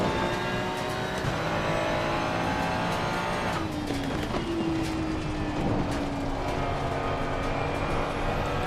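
A Ferrari GT race car lapping Watkins Glen in Assetto Corsa Competizione, its engine a steady, loud, close drone with rising and falling pitch as it shifts through gears, no talking.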